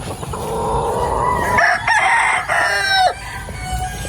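A rooster crows loudly nearby while hens cluck continuously in the background.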